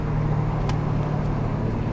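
A Honda Civic Type R exhaust with faulty valve controls drones loud and close, a steady low rumble held throughout with no variation.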